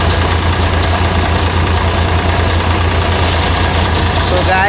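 A paddy thresher machine chugs and rumbles continuously at close range in a rice field, its engine knocking steadily with a heavy low hum, while a voice speaks faintly over the din.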